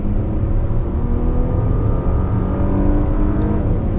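The stock 3-litre V6 turbo engine of a 2019 Porsche Panamera drones steadily under acceleration, a close, even hum with no voices.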